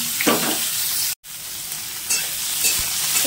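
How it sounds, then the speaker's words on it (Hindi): Chopped onion and two green chilies sizzle with cumin and mustard seeds in hot oil in a pan, with a steady crackling fry and stirring scrapes, briefly cutting out for an instant midway, no talking. "प्याज को यहाँ पर हम हल्का फ्राई कर लेंगे, भून लेंगे हल्का सा।"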